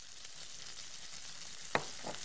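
Green and red pepper slices hitting frying lamb in a pan: a steady soft sizzle throughout, with one sharp clatter near the end and a smaller stir shortly after.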